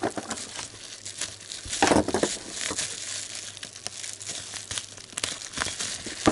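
Bubble wrap packaging from a food subscription box being handled and unwrapped, giving loud irregular crinkling and rustling plastic crackles up close, with no talk over it.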